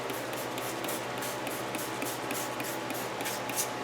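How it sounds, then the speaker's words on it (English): Soapy water sprayed around the A/C fittings of a 2008 Volkswagen Jetta 2.0T to find a refrigerant leak, a continuous close hissing spray with slight pulsing, steady and unbroken, no speech. "And if you do have a leak, you do this and spray some soapy water around."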